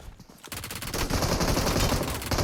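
Rapid automatic gunfire in the mobile battle royale game PUBG Mobile, a dense sustained burst of shots after a brief quieter start, loud and continuous for about two seconds.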